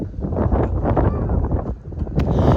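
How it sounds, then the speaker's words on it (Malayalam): Strong wind gusts across the open ground at Thangalpara in Vagamon, kicking up dust, a loud continuous buffeting roar that rattles the microphone. "നല്ല കാറ്റ് പൊടിമണ്ണൊക്കെ ആയിട്ട് കണ്ണ് തുറക്കാൻ പറ്റുന്നില്ല"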